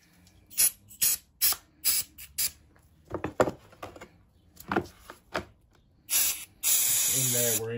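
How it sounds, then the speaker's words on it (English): Brake cleaner is sprayed onto an EGR valve from a Jeep Patriot or Compass CRD in a series of short, close, loud hissing bursts, with one long continuous spray at the end. "This brake cleaner, dissolve it."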